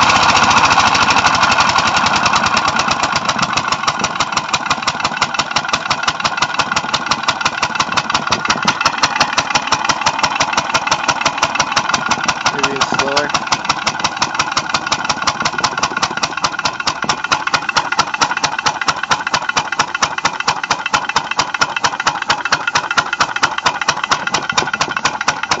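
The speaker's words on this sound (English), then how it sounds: "Take it down to really slow idle." A 5 HP re-compression air/steam engine idling very slowly, giving a steady, loud, rhythmic chuffing and knocking pulse that runs evenly throughout with no voices.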